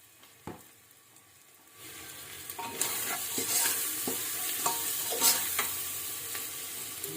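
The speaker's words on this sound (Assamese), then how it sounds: "এতিয়া ভালকৈ ইয়াক লাৰিব লাগিব" Turmeric and other ingredients in a pan for coconut chicken curry stay quiet briefly, then a spoon starts stirring, bringing a rising sizzle with repeated scraping clicks that continue to the end.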